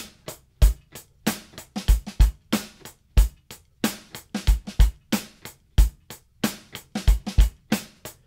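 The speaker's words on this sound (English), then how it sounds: "if I play it in a swung 16th way, it will sound like this" A drum groove of kick and snare hits with quick swung sixteenth notes in between that lean unevenly, giving a loose, bouncy shuffle feel.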